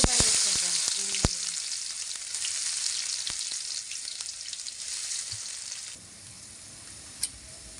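Onions dropped into hot oil in a pan give a loud hissing sizzle with a few clinks from a spoon, then the frying noise cuts off abruptly and a single knock follows.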